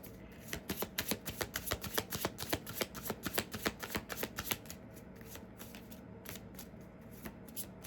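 Close, rapid riffling of a deck of cards in a quick rhythmic burst, followed by a few softer, slower card shuffles.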